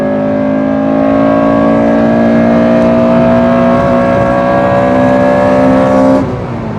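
A Honda with a K20 VTEC engine accelerating hard on the Nordschleife, a loud sustained in-car engine howl climbing steadily in pitch for about six seconds before easing off at the end.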